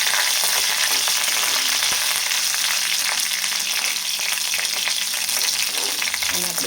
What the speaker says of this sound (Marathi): कढीपत्ता आहे तो तेलामध्ये चांगला कळू द्यायचा.